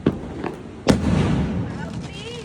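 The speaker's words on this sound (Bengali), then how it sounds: "টুকটাক কিছু আতশবাজি ফাটাই" A few sharp bangs and pops of Diwali evening fireworks, one louder burst near the middle, over a steady crackling rumble, with faint voices in the background.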